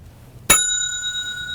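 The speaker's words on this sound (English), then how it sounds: "You're supposed to ring the bell if it's right." A single bright ding of a small bell, struck once and then ringing on with a clear sustained tone that slowly fades in a quiet room.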